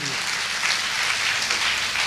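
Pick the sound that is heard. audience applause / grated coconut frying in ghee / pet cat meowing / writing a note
audience applause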